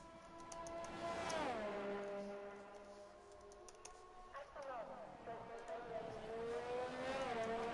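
A Formula 2 race car lapping the Canada round, its engine whining through gear changes as it comes and goes, under continuous commentary.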